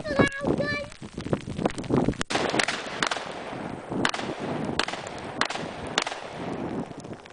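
Sharp, loud video game gunshots crack out one at a time at irregular intervals, while voices talk beneath and between the shots.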